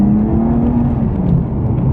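A BMW M4 CS with manual mode engaged pulls hard down a road, its engine note rising steadily as it accelerates, a continuous loud drone with a clear rising tone heard from inside the cabin.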